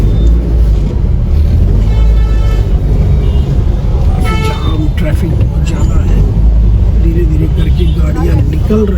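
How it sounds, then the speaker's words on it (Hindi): Heavy road traffic moving through the crowded market of Tanda town, a constant loud roar of cars and buses with occasional horn toots, heard from close by under steady talking. "ट्रैफिक बहुत ज़्यादा है।"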